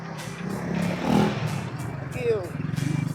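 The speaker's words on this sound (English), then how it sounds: "Motorbike." A motorbike passes along a city street beside a railway station. The engine rises and fades over a few seconds amid traffic clatter, with voices talking nearby.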